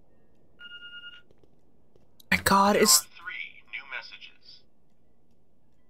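A house phone in The Walking Dead video game gives one short electronic ring, then someone speaks loudly. Quieter game sounds follow his voice.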